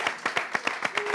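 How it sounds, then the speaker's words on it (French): A small audience claps in a quick, regular rhythm, with about eight distinct claps in close succession, fairly near and moderately loud. "Merci de les applaudir s'il vous plaît."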